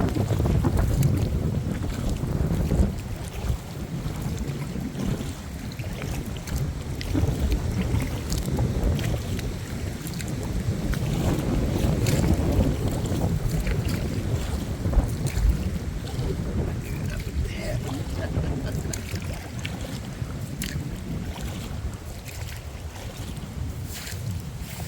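A canoe is paddled through rough, choppy water on Nelson Lake in the Adirondacks, with continuous splashing and slapping of waves under heavy, gusting wind buffeting the microphone and no talk.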